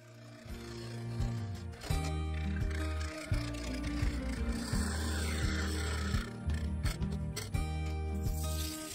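A wood-turning lathe hums steadily while a spindle gouge scrapes and rasps against a spinning sequoia bowl in repeated passes, close and fairly loud.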